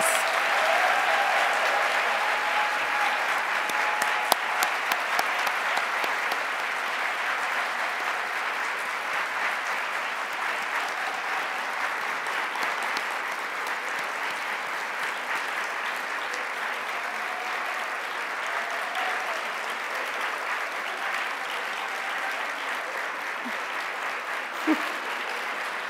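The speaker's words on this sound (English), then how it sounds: "Please join me in a final round of applause for this year's I Love My Librarian Award" Sustained audience applause at an award ceremony honoring the year's I Love My Librarian Award recipients; a broad, even wash of many hands clapping that slowly softens over time, with a faint voice or two underneath.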